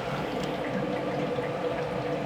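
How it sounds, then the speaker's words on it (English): Steady watery gurgling and churning hum along continuously under a constant mechanical whir of humidifier fans pulling water in a mushroom-growing container, with no voices. "you can hear it's pulling water already"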